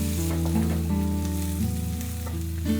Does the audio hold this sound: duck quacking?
no